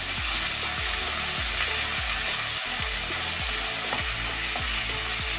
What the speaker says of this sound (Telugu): వేసి ఇట్లా కలిపిస్తున్నాం.